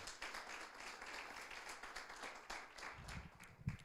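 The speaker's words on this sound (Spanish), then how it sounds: "Vamos a dar un aplauso." A church congregation gives a round of applause during a sermon, soft, fairly distant clapping of many hands continuing evenly, with a few heavier thuds toward the end.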